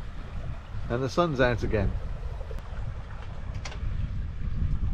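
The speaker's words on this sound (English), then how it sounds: "And we're sailing again." Wind and water noise from a sailboat under way on a return passage south toward the UK, a steady broadband rush throughout with a person speaking briefly over it.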